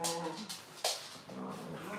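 A restless dog whimpers and whines in short, fairly close cries, with a sharper yelp partway through over steady background noise.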